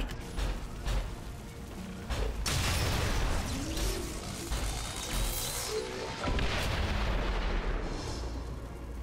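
Gunfire from a soldier in the video game XCOM 2 rings out as a couple of heavy, booming blasts with crashing impacts, set in loud game action and effects.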